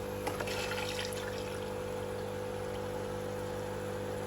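An aquarium water pump switched back on gives a faint, steady hum under a soft trickle of water, with a few brief splashy touches near the start.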